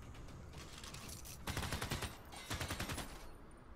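Gunfire from units attacking barbarians in Civilization VI, two loud bursts of rapid rattling shots over a quieter backdrop of distant volleys.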